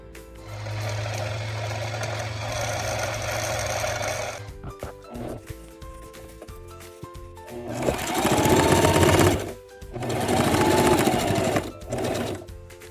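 Sewing machine stitching the hem of pajama pants being upcycled into work trousers, running in steady bursts of a few seconds each, close and loud, separated by brief pauses.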